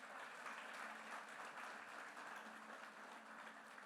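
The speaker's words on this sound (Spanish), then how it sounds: "Denle un aplauso al Señor por eso." A church congregation applauds in a steady, dense wash of clapping that keeps an even level from start to finish.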